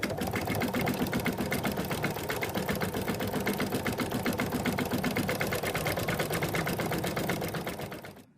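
A sewing machine stitching appliqué fabric over a placement line for a cat design: a close, loud, rapid mechanical rattle running steadily for several seconds before stopping abruptly.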